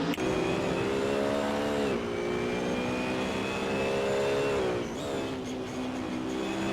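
Sustained on-board race car engine in a racing video game at Monza, a loud steady high drone with harmonic whine that dips briefly at gear changes or braking around two and five seconds, then climbs again.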